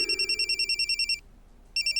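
A telephone rings with rapid, pulsing electronic trills in two bursts separated by a short pause, close and clear.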